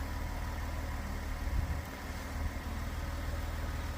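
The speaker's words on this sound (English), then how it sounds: "The truck is lowering." A Ram 1500 pickup idles with a steady low rumble while its air suspension lowers the body, the drone broken by a few faint soft shifts and hisses partway through.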